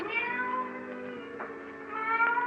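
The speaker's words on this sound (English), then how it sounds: "the silence was broken by the faint crying of a cat." A cat meows in a long, drawn-out wailing cry with a second plaintive call near the end, heard alone and fairly close.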